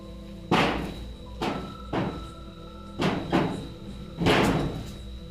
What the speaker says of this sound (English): Something closes the door